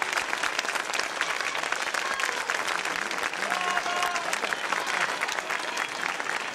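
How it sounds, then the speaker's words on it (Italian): Audience at an illusion show in Castelmella gives dense, sustained applause, a loud continuous wash of many hands clapping throughout with faint crowd voices underneath. "Serena torna in mezzo al palco per prendere naturalmente il meritato applauso del pubblico di Castelmella"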